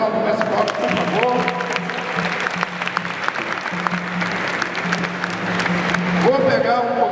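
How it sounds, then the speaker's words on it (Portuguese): Crowd applause at a capoeira martial-arts event in Florianópolis, steady clapping running throughout while a voice speaks over it and a sustained tone hums underneath. "Uma salva de palmas para o mestre Pop, por favor"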